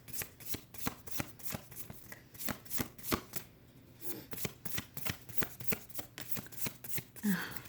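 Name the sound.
tarot cards being shuffled and drawn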